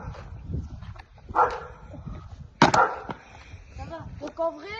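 Nervous dogs give a few sharp barks and yips, two louder bursts standing out, with whimpering and a voice talking in between.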